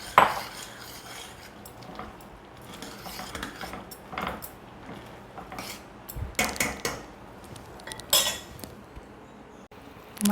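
Peanuts being stirred into hot jaggery syrup in a pan for chikki, with irregular metallic scraping and clinking of a spoon against the pan, louder bursts in the second half.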